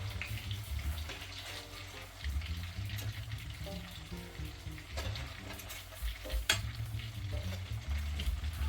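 Large Danish meatballs sizzling steadily in a frying pan, a soft continuous crackle and spatter with occasional stirring or turning noises, heard close with no talking.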